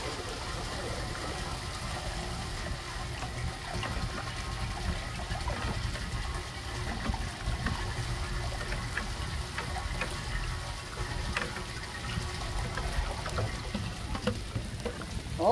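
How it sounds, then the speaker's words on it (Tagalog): Heavy rain pouring while rainwater is being collected, a steady dense wash of splashing and gushing water that stays constant throughout, with faint voices mixed in underneath. "And the rain is pouring."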